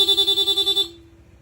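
A Honda ADV160 scooter horn in rapid mode gives a quick string of about eight loud, even electronic beeps in under a second. It then stops abruptly, leaving a short fading tail.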